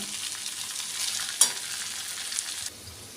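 Goat meat sears in a hot pan with a loud, constant hiss and one sharp scrape of a utensil midway, then the sizzle drops suddenly to a quieter level near the end.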